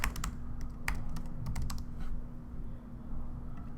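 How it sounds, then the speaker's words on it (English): Fingers type on a computer keyboard, with quick irregular clusters of crisp key clicks and brief pauses, close by over a steady low electrical hum, no voices. "start typing a name"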